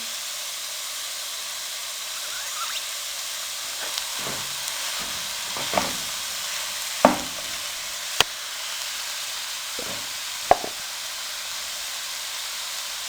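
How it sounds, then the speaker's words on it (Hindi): Mashed potatoes and spices frying in a pan for vegetable sandwich filling make a soft continuous sizzle, broken by several sharp spoon clinks and scraping stirs against the pan, with no talking. "अब 3 से 4 मिनट के लिए इनको अच्छे तरीके से फ्राई कर लेंगे।"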